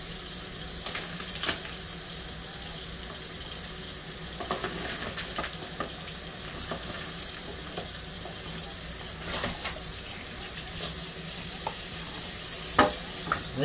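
Beef liver frying in a pan gives off a steady, close hiss of sizzling fat, with a few sharper crackles and pops, and no one speaks.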